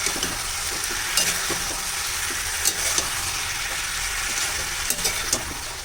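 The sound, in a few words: sautéing ginger-cumin paste with ingredients for fish curry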